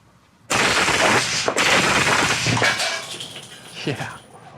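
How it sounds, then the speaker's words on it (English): Blank rounds from a rifle at an indoor blank-fire test range, a couple of single semi-auto shots then a sustained full-auto burst, loud and close, ringing off the walls and tailing away at the end. "We'll go a couple shots semi-auto, and then let you rip the rest of the magazine in full auto."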